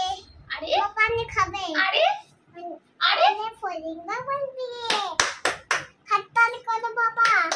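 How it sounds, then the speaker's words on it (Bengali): At home, a woman and a child clap along while chanting, with short rhythmic bursts of hand claps mixed into their voices and a few sharp, separate claps near the end. "তালিয়া তালিয়া তালিয়া"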